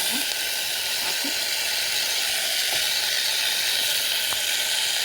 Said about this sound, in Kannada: ಅದಾದಮೇಲೆ ನಾವು ರುಬ್ಕೊಂಡಿದ್ದು ಮಿಶ್ರಣ ಹಾಕಿ